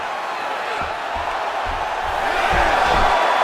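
An arena crowd in a PS5 UFC fight game roars steadily, a broad wash of cheering that swells slightly toward the end, with commentary faintly beneath it.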